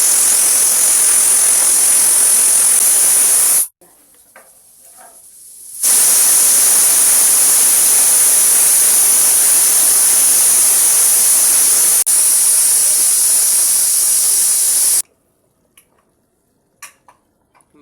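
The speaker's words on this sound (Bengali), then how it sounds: "মাংসটা সিটি মারা হয়ে গেছে" A pressure cooker of mutton for a Bihari-style mutton kosha vents steam in two long, loud, shrill whistling blasts, separated by a short quiet gap and ending in near silence with faint clinks.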